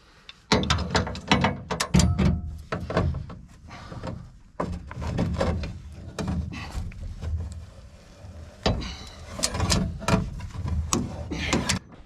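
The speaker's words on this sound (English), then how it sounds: "Hopefully I can get a torque wrench on this one too" A torque wrench ratcheting on trailer hitch bolts during a hitch install on a 1997 Ford Ranger, with close bursts of rapid clicking in several runs separated by short pauses.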